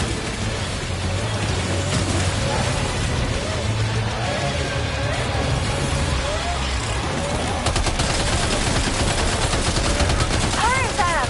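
Sustained gunfire rattles through a Death Stranding 2 fight, steady bursts over a rumbling, rain-like background, with voices speaking at points throughout.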